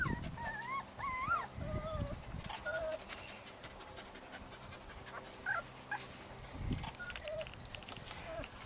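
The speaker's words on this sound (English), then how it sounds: "What a pile o' puppies." Newborn puppies lying in a pile make soft, high whimpers and squeaks close by, scattered in short bursts, with adults murmuring faintly in the room.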